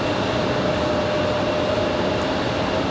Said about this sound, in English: That departure off to Nashville, Republic Airways 4489.